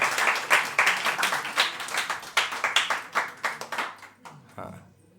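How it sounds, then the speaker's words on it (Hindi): A small audience at a stand-up comedy show claps sparsely for about four seconds, in uneven bursts of separate hand claps close by, then tapers off into near quiet. "हाँ, 4-6 छुट्टा पुट्टा तालियां मेरे हिस्से आई"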